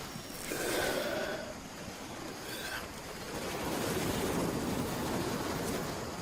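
Ocean surf washing onto a sandy beach at night, a steady loud roar of breaking waves that swells and eases with no voices.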